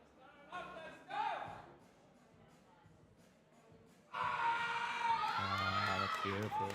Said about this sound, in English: Crowd's getting behind her.